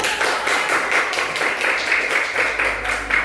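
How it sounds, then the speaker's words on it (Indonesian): Children in a classroom clap their hands together in a quick, rhythmic pattern of repeated bursts, close and fairly loud, with no talking. "Tepuk tangan."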